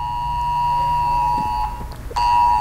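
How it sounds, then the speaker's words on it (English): A phone's emergency amber alert tone sounds as a loud, steady electronic buzz-beep with sustained harmonics, briefly dipping and cutting out before resuming at full strength, close and alone. "Amber alert."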